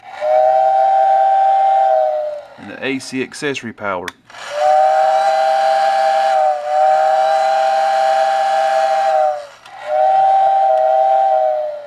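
A Tyco #934 remote-controlled toy train steam whistle in a billboard blows several long, steady, piping blasts, loud and close, with a brief moment of speech between the first two.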